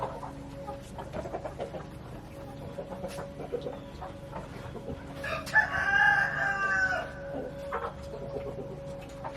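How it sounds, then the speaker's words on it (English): A rooster crows loudly partway through, over a steady background hum and soft scattered clucking from nearby chickens. "Come on, chickens."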